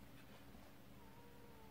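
A house cat gives a soft, drawn-out meow, faint and brief against a quiet indoor background.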